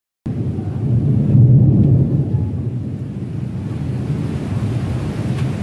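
Steady heavy rain pours close by, with a deep low rumble that fits distant thunder swelling in the first couple of seconds before settling into a constant wash of rainfall.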